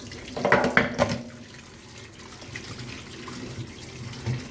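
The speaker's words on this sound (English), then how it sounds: "you must wash your hands" Tap water runs over hands being washed at a kitchen sink while eggs are prepared, a brief louder splash near the start settling into a steady soft stream, no talk.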